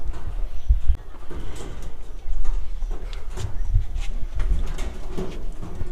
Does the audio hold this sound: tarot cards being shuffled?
no